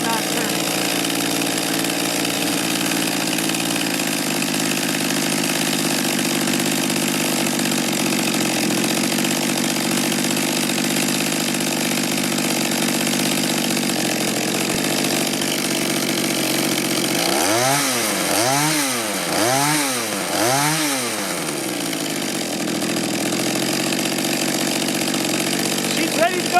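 A two-stroke small engine, such as a tiller, weed eater or chainsaw type, idles steadily at close range, with a few brief revs swelling and falling near the end.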